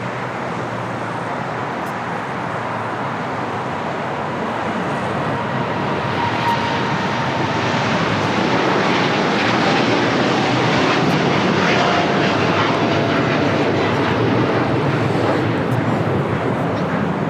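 A DHL cargo airplane operated by Polar Air Cargo takes off from LAX bound for Seoul, its engine roar building into a loud, sustained rumble with a faint whine.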